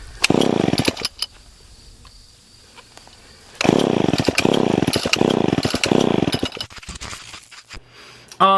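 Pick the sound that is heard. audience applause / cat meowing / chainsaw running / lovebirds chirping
chainsaw running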